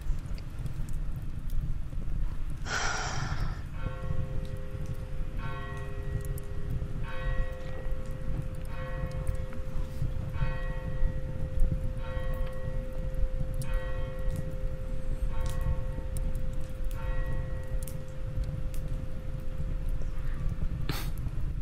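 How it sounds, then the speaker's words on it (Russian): A church bell rings repeatedly in a slow, even rhythm, moderately distant over a constant background rumble, with no talk. "Круто, что вот именно сейчас прозвучал колокол"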